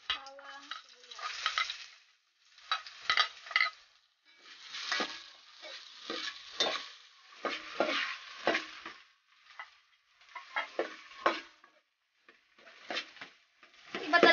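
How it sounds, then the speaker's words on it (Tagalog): Garlic and onion sauté in a pan, producing bursts of bright, crackling sizzle with brief pauses between them as the pieces are stirred and tossed, close and clear with no talking. "Iba talaga kapag inigisa yung bawang sibuyas, nawawala yung lansa niya."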